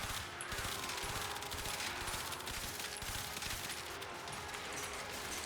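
Rapid, continuous gunfire from a Harpak harpoon gun in the Warframe video game, a dense stream of quick shots running steadily and loudly through the whole stretch with no talk.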